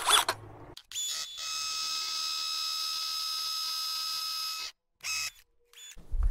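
Electric drill boring through a single brick wall: a steady, high mechanical whine holds for about four seconds, cuts off, then gives one brief burst, with a few faint handling noises around it.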